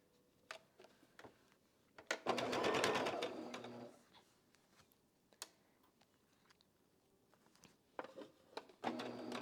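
Sewing machine stitching quilt seams for a spring mystery quilt, with soft clicks, a roughly two-second burst of stitching, then quieter ticks and handling taps, heard close and without talk.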